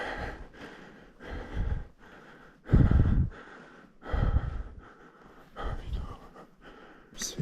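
Heavy, ragged panting of a man out of breath inside a dusty abandoned bunker, loud close gasps and snorting exhales arriving in uneven bursts roughly every second, with no speech.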